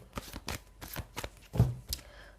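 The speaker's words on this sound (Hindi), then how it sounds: "चलिए कुछ और कार्ड्स लेते हैं।" Tarot cards are shuffled in quick, crisp riffling bursts, about six close flutters in a row with brief gaps, heard alone without talk.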